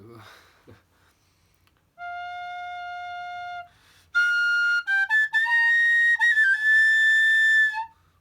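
Several clear, high whistle notes: a long steady tone, then a louder run of shifting pitches, played alone with brief pauses.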